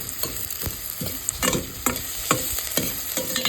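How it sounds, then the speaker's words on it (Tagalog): Onions sautéing in a hot pan, a loud close sizzle punctuated by quick scraping stirs every half second or so, with no talking. "Ayan, natulog ko na sibuyas."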